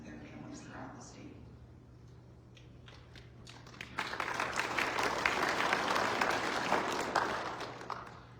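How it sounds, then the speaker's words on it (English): A convention audience at a joint opening session breaks into applause, a dense wash of clapping that swells loud after a quieter start and holds steady, with a background hum underneath. "You don't have to clap every time"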